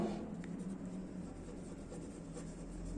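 A teacher writes a word in a class lesson, a faint continuous scratching of writing heard close and quiet, with no speech.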